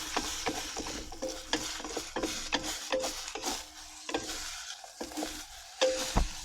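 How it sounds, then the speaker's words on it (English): Onions tossed in a frying pan with grass-fed butter, a close, crackling sizzle broken by frequent rhythmic scrapes and knocks of the pan and utensil. "Give it a toss. Throw my onions on there."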